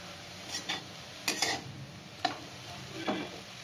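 Mustard flowers dry-frying in a pan with no oil, stirred in short scraping bursts with soft intermittent clinks of the utensil against the pan, quiet and close.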